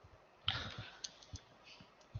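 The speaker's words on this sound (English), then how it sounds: "I think he's going to type now." Sparse keystrokes on a computer keyboard during an online talk about experimental studies in science education, a few irregular light clicks spaced apart, fairly close and quiet, with no talking over them.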